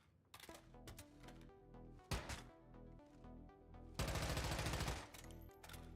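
Gunfire from an offhand weapon in the video game Once Human, with a run of sharp clicking shots, a loud single blast near two seconds and a dense burst of rapid fire from four to five seconds, all close and without talk.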